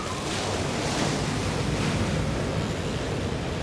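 Steady roar of ocean waves breaking continuously, broadband and fairly loud, with a rushing, windy quality throughout and no voices.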